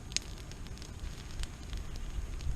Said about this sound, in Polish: Jest ładny ogień.